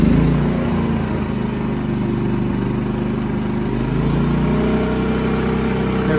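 A Firman Dual Fuel 3200W portable generator running on gasoline, a loud steady mechanical engine drone close by with a slight settling in pitch partway through, no voices.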